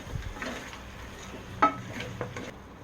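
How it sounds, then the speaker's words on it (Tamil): Mutton biryani masala mixed with yogurt in a pot: a spoon scrapes and clinks against the metal, with one sharp knock and softer scraping strokes over a faint background. "எடுத்து வச்ச தயிர் இது கூட சேர்த்து நல்லா மிக்ஸ் பண்ணி விட்டுக்கலாம்."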